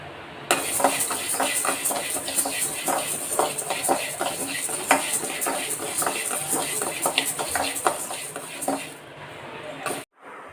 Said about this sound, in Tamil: ஒரு 100 கிராம் தொலி பருப்பை நம்ம வறுத்துக்கிடுவோம். கொஞ்சம் பொன்னிறமாக வறுத்துக்கிடுவோம்.